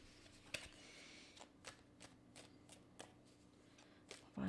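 Tarot cards being shuffled by hand, a quick series of soft riffling flicks and taps repeating at a steady pace, close but faint over a low background hum.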